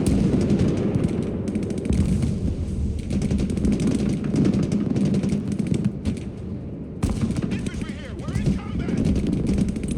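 Artillery and battlefield fire in the real-time war game Broken Arrow, a dense rumbling barrage of booms and crackling shots rolling continuously, with a brief dip before the thunder resumes.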